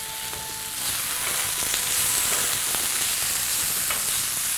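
Shrimp frying in a pot give off a steady, close hiss of sizzling oil that swells slightly after the first second and holds loud throughout, with faint clicks of stirring.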